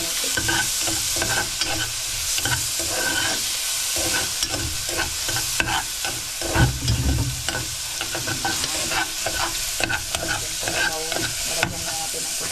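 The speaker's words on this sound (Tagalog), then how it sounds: "Pula-pulahin lang natin yung sibuyas at saka bawang." Onion and garlic sautéing in a pan, with a constant close sizzle broken by frequent scraping and clinking stir strokes in an irregular rhythm.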